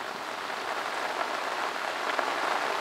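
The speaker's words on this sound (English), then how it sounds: "it's pretty much been windy and rainy" Steady rain falls on a windy day at a catfishing lake. The patter is dense and continuous on nearby surfaces, with no voices.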